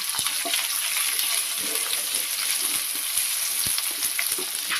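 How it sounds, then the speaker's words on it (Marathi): Chopped onion, green chilies and curry leaves sizzle and crackle in hot oil in a pan, a dense, steady frying hiss with scattered sharp pops, close and continuous. "कांदा हलकासा लाल करून घेते"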